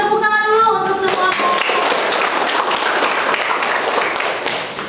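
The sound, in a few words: classroom applause for the presenting groups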